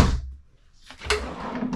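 Drawers in a 40-foot motorhome slide and bump shut in a quick series of short knocks and scrapes, close by with no talking.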